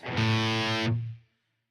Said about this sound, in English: I'm going to hit some of this reverb on this